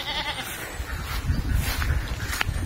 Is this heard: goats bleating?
yes